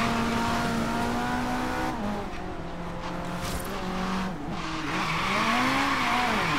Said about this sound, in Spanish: La hemos cagado con ese derrape ahí, bastante fuerte.